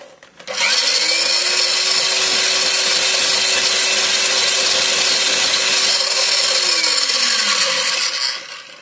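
Sugar being whisked into a cheesecake mixture with a motorised whisk, giving one loud, close, continuous whirring run that spins up, holds steady for several seconds, then winds down.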